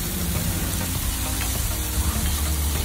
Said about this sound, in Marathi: हे आपल्याला सर्व मिश्रण व्यवस्थित परतवून घ्यायचं आहे। कांदा छान ब्राऊन होत नाही तोपर्यंत आपल्याला परतवून घ्यायचं आहे।